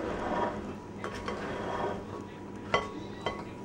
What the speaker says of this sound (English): So you want to stir it up good.